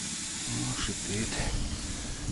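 Campfire burning in a taiga camp beside a hut shelter, giving a steady broadband hiss and crackle throughout, fairly close, with faint low voice-like murmur underneath.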